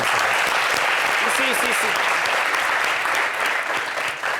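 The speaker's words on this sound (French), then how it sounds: "Applaudissez pour le président." Sustained applause from a studio audience for the president at a Côte d'Ivoire talk show, dense and steady for the whole stretch, with a voice speaking over it.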